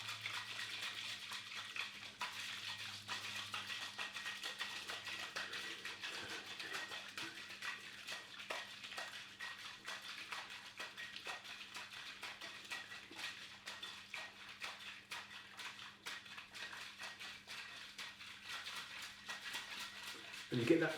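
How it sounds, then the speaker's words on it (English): Dry shaking a whiskey martini with egg in a cocktail shaker, a continuous fast rattling shake of about twenty seconds at moderate volume with a low steady hum beneath. "we dry shake for around 30 seconds"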